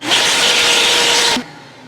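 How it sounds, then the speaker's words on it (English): A vacuum cleaner sucks dust out of a serger, a loud, steady airy hiss and roar for over a second that cuts off abruptly, leaving a low hum. "I'm going to turn on my vacuum and suction out a lot of the bulky dust bunnies that are inside this thing"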